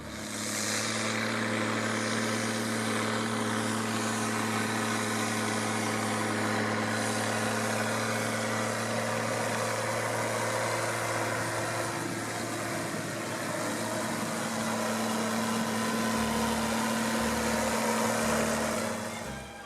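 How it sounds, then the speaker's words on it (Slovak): A 1988 Zetor 16145 tractor's 6874 cc turbocharged six-cylinder diesel runs steadily, a deep, even drone with a strong low hum held for the whole stretch, fairly loud and alone without any talk. "Motor s turbodúchadlom dosahoval maximálny výkon 116 kW a zvuk, no, presvedčte sa sami."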